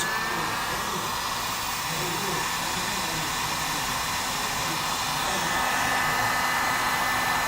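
A hot air gun blows steadily at close range with a broad, even rush of air, warming an iPhone 5 screen to loosen its flex cable during an LCD replacement.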